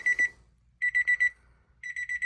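An electronic AFR and boost gauge in a 1992 Honda Civic hatchback beeps on power-up in three bursts of rapid, high-pitched tones, with short pauses between, in an otherwise quiet setting.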